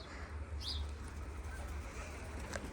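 Pigeons held ready for release give a brief soft coo and faint chirps over a steady low rumble of outdoor background noise.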